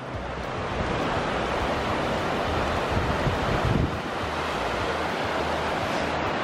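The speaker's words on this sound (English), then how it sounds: "get to see this at the base of the waterfall" A constant, loud roar of rushing water at the base of a waterfall in Iceland, broadband and unbroken, mixed with some wind buffeting the microphone.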